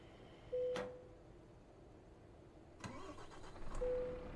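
A truck engine starts in Euro Truck Simulator 2, with a short cranking burst followed by a second start attempt that catches into a low idle. The sound is moderately close and quiet, and no talk is heard.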